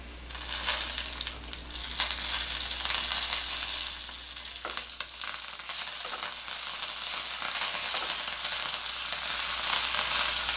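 Curry leaves and byadgi chillies sizzle and crackle steadily in hot oil, a dense, bright frying hiss with a low steady hum beneath, with no voices.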